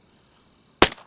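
A single sharp gunshot in the video game DayZ, loud and close, cracking after near-silence and decaying quickly.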